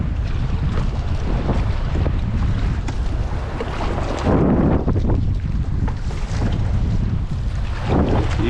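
A fishing boat rides rough, choppy water in strong wind, with constant loud wind buffeting and rushing water and engine noise filling the whole stretch, and occasional heavier splashes.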